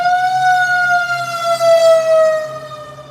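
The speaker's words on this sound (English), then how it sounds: "the fire truck crossing, so the noise" A fire truck siren wails steadily as it passes, loud and close, its pitch sliding gradually downward with no talk over it.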